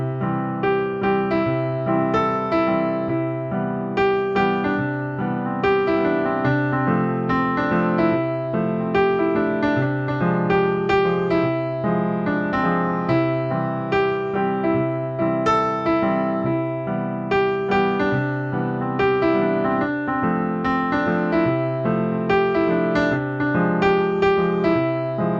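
Solo piano plays the intro of a song, a steady, gently rhythmic pattern of repeated chords and melody notes, close and clear throughout with no voices.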